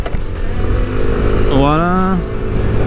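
A Piaggio MP3 400 hpe scooter engine idles steadily, then a brief throttle blip sends the revs climbing and falling over about half a second, close and fairly loud.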